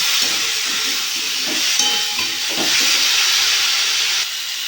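Water poured into a hot pan of fish curry hisses and sizzles in a steady, loud wash of steam with faint stirring knocks underneath, no voices.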